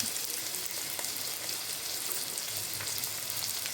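Onions sizzling and frying in a pan with ginger and garlic, a steady dense crackle with faint stirring, close and continuous with no talk.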